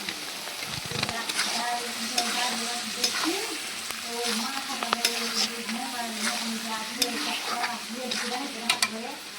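Chopped bottle gourd is frying in oil with chopped onion and garlic while it is stirred, giving a steady close sizzle and repeated scraping and clinking strokes throughout, with no talking.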